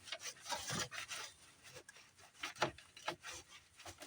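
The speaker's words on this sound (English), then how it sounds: "This is a 10mm nut, 10mm nut. Give it a loosen." A wrench turns a 10mm nut on a car battery terminal, producing a few short, close scraping and rasping strokes with brief pauses between them.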